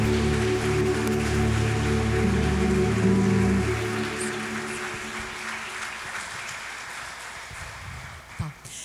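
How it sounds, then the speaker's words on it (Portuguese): Church congregation applauding at an Easter musical service, a dense wash of clapping starting loud over sustained low organ-like tones, then thinning and fading toward the end. "Mais uma vez, aplauda o nome do Senhor."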